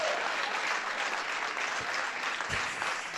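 Audience clapping at a stand-up comedy show, a steady wash of applause throughout with a few brief thumps near the end.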